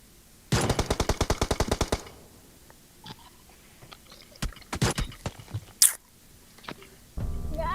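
Gunfire in the mobile battle royale game PUBG Mobile: a rapid automatic burst of about a dozen sharp shots, then scattered single cracks and clicks, ending with another loud burst.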